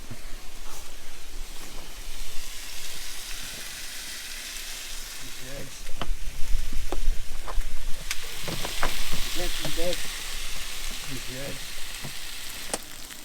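Beef burger patties sizzle and fry on a camp cooker at a coastal fishing spot in Point Culver, Western Australia, a steady close crackle with occasional spits and scraping, with brief speech.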